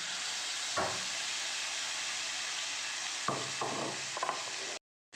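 Poppy seed paste is stirred into cauliflower and potato in a pan, with a steady hiss of cooking underneath and a few soft stirring scrapes. The sound cuts off abruptly at the end.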